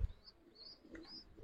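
Pigeons from a pair of full silver Giribaz pigeons with two chicks give soft, faint coos and chirps, a few brief calls spread across a quiet background.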